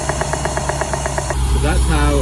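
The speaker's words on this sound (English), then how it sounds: "So that's how a fuel injector should sound." D-Jetronic fuel injectors click in a fast, even rhythm of sharp ticks for over a second, then give way to a louder engine-like rumble.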